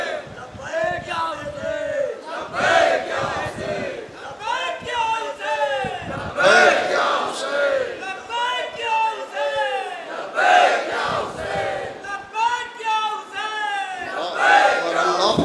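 A large gathering at an annual majlis for Maulana Rais Ahmad Jarchvi in Jogipura shouts back a loud, continuous crowd response that rises and falls in waves of massed voices, with no single speaker standing out.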